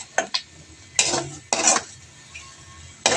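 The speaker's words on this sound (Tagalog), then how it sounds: "Haluin lang natin para makapagmantika siya." Chicken pastel is stirred in a pan with a metal utensil, giving a few separate clanking scrapes and clinks against a faint frying hiss, up close with short gaps between strokes.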